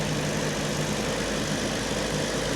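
An MGB car engine idles warm, a steady continuous low rumble with an even mechanical hum, close and unchanging with no voices.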